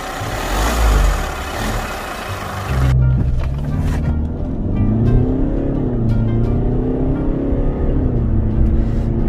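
A diesel Hyundai Grandeur HG engine with a tuned exhaust runs steadily up close, rumbling low with a faint whooshing intake hiss, rising and settling slightly as it idles.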